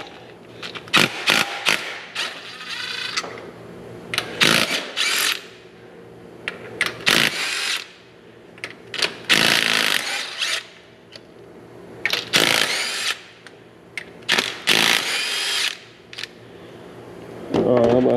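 A power tool breaks loose injector bolts on a Mack engine in loud, repeated bursts of whirring and rattling, separated by short pauses with people talking in between.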